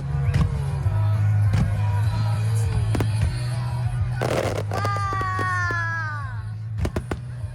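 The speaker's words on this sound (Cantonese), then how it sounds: "一到7點即刻燒煙花啦！" Fireworks at a summer beach festival in Okinawa sound as repeated sharp bangs and crackles over a constant low hum, with a burst of crackling and descending whistles midway, a crowd faintly present.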